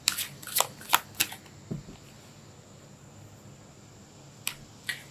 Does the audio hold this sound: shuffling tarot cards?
yes